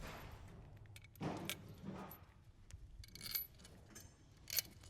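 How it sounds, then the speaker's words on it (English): Metal bolts and small hardware for a billet CCV kit on an L5P engine clink and jingle in short, quiet bursts, with scattered sharp taps and rattles between softer handling noises. "Next, we're going to install the gaskets right into the bottom of the CCV kit. We're going to put the bolts in."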